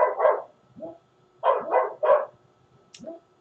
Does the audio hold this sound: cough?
no